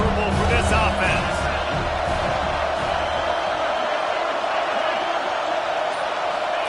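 A packed stadium crowd at a college football game against Vanderbilt keeps up a loud, steady roar throughout, with a broadcast commentator talking over it.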